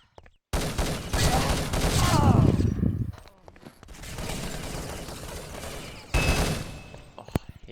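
Gunfire in an Apex Legends match, loud bursts of rapid shots filling the first few seconds, then quieter continuous firing and a final sharp burst, under a commentator's talk.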